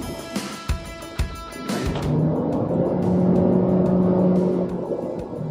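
A Chery Tiggo Cross SUV in sport mode accelerates hard: a few sharp clicks, then a close engine roar swells and holds steady, heard alone.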